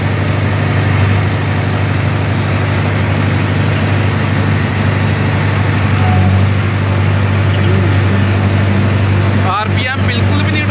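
A tractor engine runs steadily at 1500 RPM while pulling a super seeder, giving a loud, constant low drone with no drop in speed. A brief clattering burst comes near the end.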